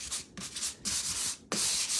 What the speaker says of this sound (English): I am going to go ahead and sand it just a little bit to make it look a little more weathered